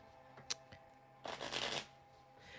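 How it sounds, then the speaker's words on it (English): A deck of playing cards being shuffled nearby: a short click, then a quick riffling burst about half a second long, quiet and without talk. "I'll shuffle the cards while we're waiting for everybody else to show up"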